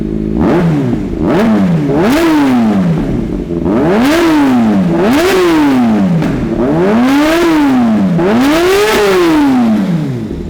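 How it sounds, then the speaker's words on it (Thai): A motorcycle engine is revved repeatedly up close, the pitch climbing and dropping in steady loud cycles, about five sweeps with no talking. "เดี๋ยวเรามาฟังเสียงเครื่องยนต์กันครับ"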